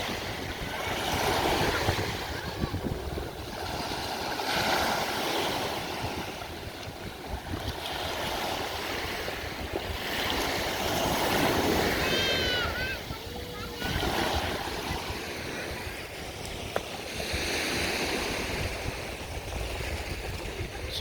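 Sea waves wash onto a sandy beach lined with huts and boats, a steady surging roar with wind buffeting the microphone while people talk nearby.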